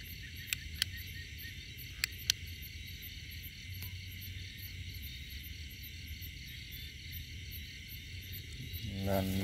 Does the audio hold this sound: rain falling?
no